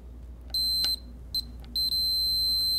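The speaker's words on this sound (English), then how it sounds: "we have an audio beep that tells us that we have continuity" A cable continuity tester emits short electronic beeps as its probe touches connector pins, a few separate tones followed by a sustained beep over a low steady hum.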